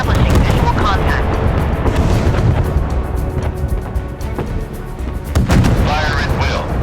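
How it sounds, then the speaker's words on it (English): Naval battle in the warship game Force of Warships, with dense, continuous booming gunfire and artillery blasts rolling under game voice lines, loud and sustained throughout. "We are under fire."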